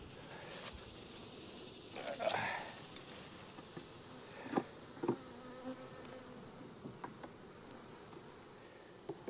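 Honeybees buzzing in an opened hive during an inspection, a faint continuous hum with occasional soft knocks and handling sounds nearby.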